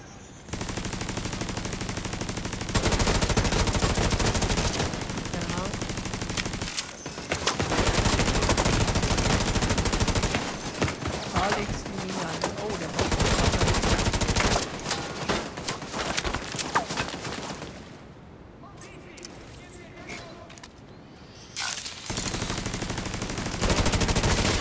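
Gunfire in The Division 2 rattles almost nonstop in loud, dense bursts and volleys, with brief lulls between exchanges.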